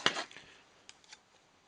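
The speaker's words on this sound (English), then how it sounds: "So I am going to need scissors." Scissors give a short metallic snip up close, followed by a couple of faint clicks, while working on a Disney dolls house kit.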